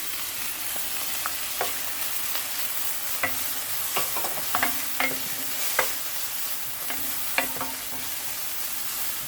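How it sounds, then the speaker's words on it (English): Onions, green chili and ginger sautéing in a pan for eggplant sabji: a steady sizzling hiss with scattered clinks and scrapes of a spoon stirring, close and continuous, no voices. "Now we're going to saute them for 2 to 3 minutes until our onions get a little bit browner"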